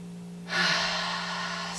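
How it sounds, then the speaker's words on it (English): A deep breath is let out through the mouth, a close, steady, airy rush that starts suddenly after a short pause and holds to the end over a low background hum. "Big breaths here."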